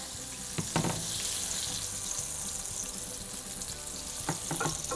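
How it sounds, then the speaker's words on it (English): A steady, soft sizzle of bobcat meat nuggets frying in hot oil continues throughout, with a few clinks and bumps of utensils near the pan. "while I'm frying up the rest of those"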